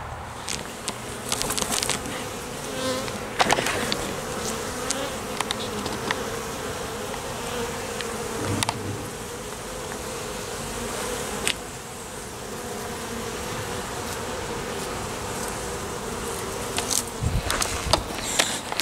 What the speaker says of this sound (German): bei mir fliegen die Bienen, als gäbe es überhaupt nichts mehr